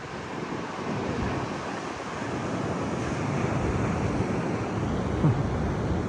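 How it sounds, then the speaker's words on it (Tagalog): Big ocean waves at Las Palmas roar continuously with a broad, rushing wash and some wind buffeting the microphone; no voices. "Oh, laki ng alon."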